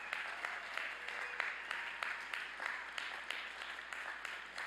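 Applause for graduates at a spring university commencement ceremony: a broad, fairly distant crowd clapping in a large venue, with a rhythmic pattern of sharper claps pulsing through the steady wash and no talking.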